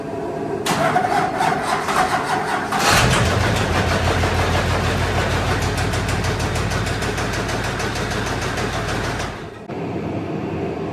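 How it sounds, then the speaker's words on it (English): An LBZ diesel engine with a broken crankshaft cranks briefly, then catches and runs with a loud, rough, rhythmic pulsing knock for several seconds before cutting out, heard close with no talking. "we're gonna see if we can get it to run with a broken crank."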